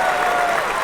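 A gallery crowd at a golf tournament, the San Diego Open final round, applauds a shot with a brief, dense burst of clapping that fills the moment at steady volume.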